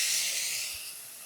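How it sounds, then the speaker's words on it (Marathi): Chopped onion with a pinch of salt hitting hot oil tempering for white upma, giving a steady loud hiss and sizzle that eases slightly toward the end, with no talk. "आता कांदा पटकन भाजून निघावा म्हणून थोडंसं त्यावर मीठ."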